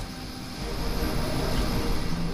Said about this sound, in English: We can't allow that helicopter to escape.